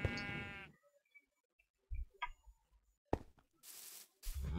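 Sheep bleating in the video game Minecraft, one long wavering bleat up front followed by scattered shorter bleats and game noises, close and clear with no talk.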